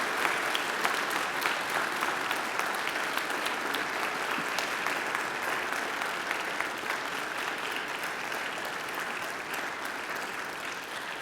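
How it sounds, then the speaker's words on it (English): A large graduation crowd at a Macquarie University ceremony gives a sustained round of applause, thick continuous clapping that holds loud and steady from start to finish, easing slightly toward the end. "I invite you to give them a mighty round of applause"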